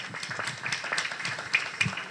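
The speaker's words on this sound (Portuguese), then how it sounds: "receba os aplausos também, por gentileza" Scattered audience clapping at a lecture, moderate and sustained over about two seconds with a few sharper claps near the end, no voices.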